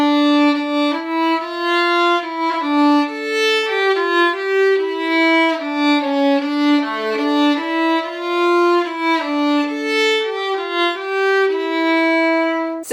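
A solo fiddle plays the traditional air Roslin Castle an octave lower than normal, a steady low-register melody with notes flowing one after another, warm bowed tone, no talking.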